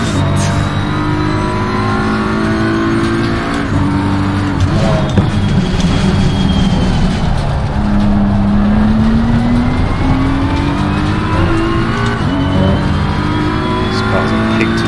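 Race car engine in Assetto Corsa Competizione at the Nürburgring, droning loud and steady throughout with pitch rising and falling through gear changes and acceleration, a voice talking faintly underneath.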